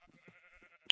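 A Minecraft sheep bleats in a short, nasal, wavering call, heard close and alone, with a brighter burst at the very end.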